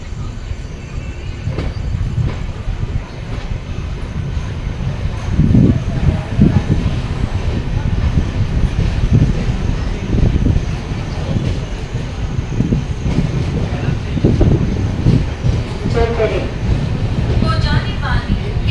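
A MEMU passenger train pulls out of Shahdol station, its rumbling wheels and rolling cars rising and falling steadily with occasional squeals, while voices talk over the continuous rail noise.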